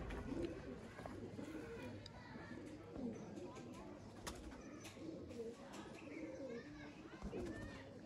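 Sialkoti pigeons from an old champion bloodline coo softly in repeated low, throaty phrases, faint and close, with indistinct voices and other bird sounds in the background.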